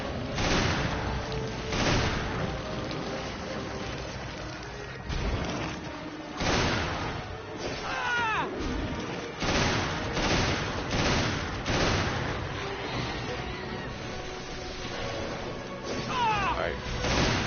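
Repeated gunshots from the video game Resident Evil Revelations, loud bursts of fire spaced across the stretch amid game sound effects and ambience.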